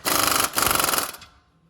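Shock absorber bolts on a Metalcloak-lifted vehicle being tightened with a rapid, loud rattling impact gun, two close bursts of about half a second and roughly 0.6 seconds, then fading away.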